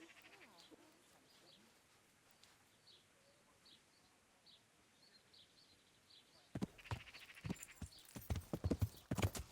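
Horse hooves clip-clop in Kingdom Come: Deliverance, faint with birds and geese calling in the background, then turning loud and close in a burst of uneven, heavy hoofbeats.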